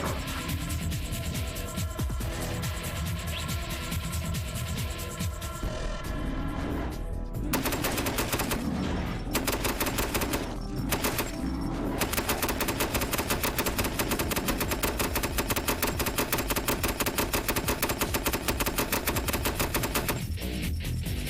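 Sustained rapid automatic gunfire in a video game, aimed at a Minotaur, a dense steady stream of shots with brief gaps, loud and continuous with no talking.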